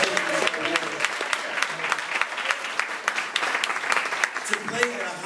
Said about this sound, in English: Everybody, let's give a hand clap.